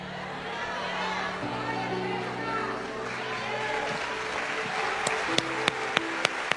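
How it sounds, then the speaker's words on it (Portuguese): A congregation at a sermon applauds in a steady wash of clapping that runs under a speaker's voice, with a few sharp, louder claps near the end. "Esse aplauso é para o Senhor Jesus"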